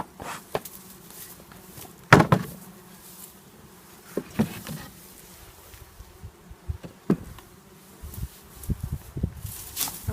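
Honeybees buzz faintly around a beehive fitted with a bee-escape maze, a low hum broken by scattered close knocks and rustles.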